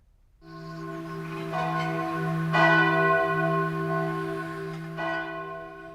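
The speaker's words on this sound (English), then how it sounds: "The bells you hear are ringing to warn the people to evacuate the city" Large warning bells ring with a deep, sustained tone, struck repeatedly so each clang swells over the lingering hum, loud and resonant throughout, in a War of the Worlds stage production.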